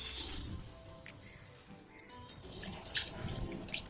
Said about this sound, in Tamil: நம்ம எடுத்து வச்சிருக்க அரிசியை வந்து ஒரு தண்ணி சும்மா அலசிக்குவோம்